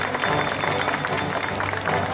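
Applause breaks out in a live stage variety show with costumed characters, a steady dense patter of many clapping hands filling the whole two seconds, with crowd noise mixed in.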